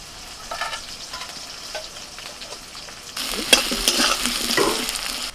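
Bay leaf, dried chilli, five-spice, potato and chopped onion fry in hot oil, a quiet sizzle with stirring at first that swells into a louder, crackling fry partway through.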